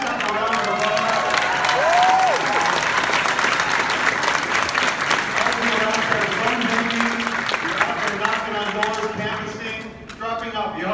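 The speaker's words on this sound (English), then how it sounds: "Give yourself a round of applause." An audience of campaign volunteers at a CSUF political event claps and cheers in a sustained, dense wave, with voices talking and calling out through the crowd noise until it tapers off near the end.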